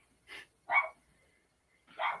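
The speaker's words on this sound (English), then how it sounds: "dogs barking." Dogs bark three times in short, sharp bursts with brief pauses between them, fairly close and clear against a quiet background.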